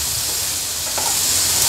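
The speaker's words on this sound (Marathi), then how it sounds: "आता हाय फ्लेमवर छानसं ह्याला परतून घ्यायचं आहे" Boiled chickpeas are stir-fried in a pan over high flame with salt for a Ganesh Chaturthi prasad, producing a loud, steady hissing sizzle with a brief bright crackle partway through, with no speech.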